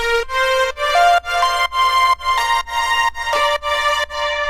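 Bright synth leads layered with strings in a remake play a rhythmic chordal melody in short, repeated pulsing phrases, loud and up front with no voices.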